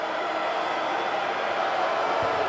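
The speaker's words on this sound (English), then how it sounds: "Crowd making some noise." Steady roar from a college basketball arena crowd during a game, a dense, continuous wash of cheering and chatter that stays loud and even throughout, with no single voice standing out.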